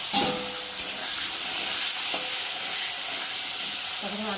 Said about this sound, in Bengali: এখন আমি এই ছোটো ছোটো করে আলু ভালো করে ভেজে নেব